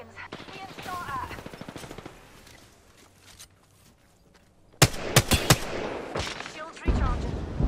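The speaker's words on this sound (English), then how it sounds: "Being shot at." Gunfire in the Apex Legends video game: scattered shots, then a sharp cluster of loud bursts partway through, mixed with game voice lines and background battle noise.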